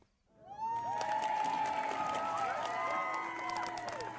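In a video game, a crowd cheers and applauds steadily. Loud whoops and shouts ride over a continuous roar of clapping that swells in and then holds for several seconds.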